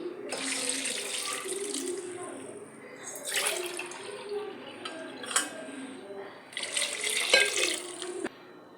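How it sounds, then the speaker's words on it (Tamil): Water is poured into a pot of dal in a pressure cooker, a steady splashing stream with surges and brief pauses while a voice talks over it. "இல்லை 2 சொம்பு தண்ணி சேர்த்துக்கலாம்."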